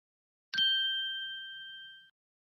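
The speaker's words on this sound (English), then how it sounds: "Oh, did you hear that bell?" A single bright clock bell strike at midnight rings out clearly and decays smoothly over about a second and a half, alone in silence.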